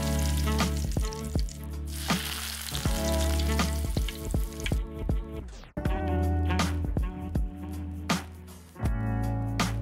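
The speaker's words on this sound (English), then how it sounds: "we can add our sliced onions and garlic and cook them until they're fragrant and soft" Sliced onions and garlic frying in a pan for a vegan Malay fish curry, a loud close sizzle broken by repeated stirring scrapes and clacks, with no talking.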